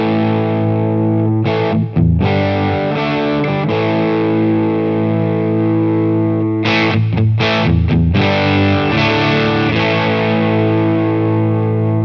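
Electric guitar played through a Horrothia Triage preamp pedal into a Boss Katana amp, giving loud, heavily distorted sustained chords with a few brief gaps, and no talking.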